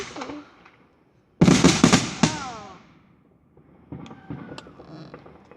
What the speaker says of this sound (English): But here are the fireworks.